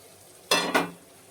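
Ginger and chilies hitting hot tempering oil, two quick bursts of loud sizzle a moment apart, fading into quiet, close and with no speech.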